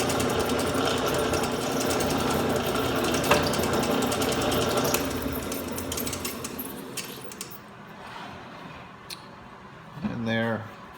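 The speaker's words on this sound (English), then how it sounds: "I'm going to drill to the depth of the head of the Forstner bit" An Atlas drill press bores with a Forstner bit, a steady close whirring motor hum with rapid chattering cutting that fades toward the end, then a short burst as the spindle stops, with a voice present at times.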